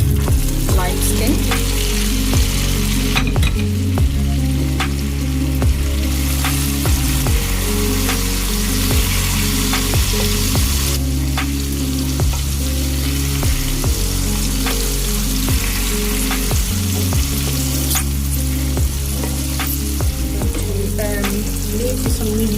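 Lime pieces frying in hot oil for a homemade mixed garlic naga pickle, a loud, dense, continuous crackling sizzle with bubbling and periodic stirring scrapes, close up and alone.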